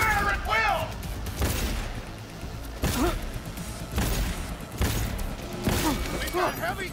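Gunfire in Cyberpunk 2077 on very hard difficulty: repeated sharp bursts of shots roughly every second, some with heavy booming impacts, mixed with game voices and shouting.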